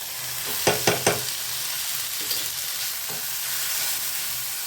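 Fish curry masala with salt and turmeric frying in a covered pan, a steady close sizzle with a few sharp stirring clatters early on and a softer knock later.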